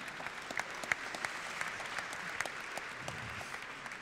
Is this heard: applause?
yes